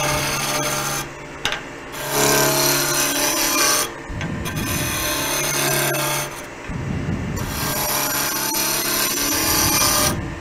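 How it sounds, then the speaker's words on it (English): A wood blank for a peppermill spins on a lathe under a steady motor hum while a tool scrapes and rasps against it in repeated loud bursts, close up with no talk. "mount a piece of wood, turn it round, put a tenon on each end, and then cut it in half"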